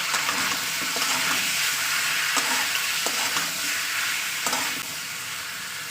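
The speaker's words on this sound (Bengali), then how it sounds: "এক চামচ লবণ আর হাফ চামচ হলুদ গুঁড়ো এবার এটাকে ভালো করে কষিয়ে নেব" Spices sizzling as salt and turmeric powder are stirred into a frying pan, a steady hiss of frying with scattered scraping clicks of the spoon, close and continuous with no talk.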